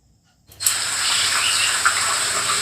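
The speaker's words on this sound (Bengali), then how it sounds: "তাই জলের পরিমাণটা একটু বেশি দেব" Water gushes in a steady stream after a short silence, poured into a pot of chicken curry with potatoes. The pouring is close and continuous, with a hissing splash that lasts to the end.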